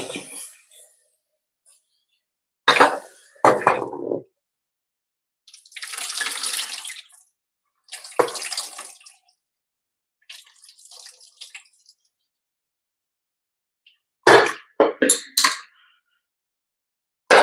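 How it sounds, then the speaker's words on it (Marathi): Cut taro leaves are washed by hand in a container of water, with separate bursts of splashing and sloshing between silent gaps and a quick cluster of swishes near the end. "आता हे एका पाण्याने मी जरा धुवून घेते"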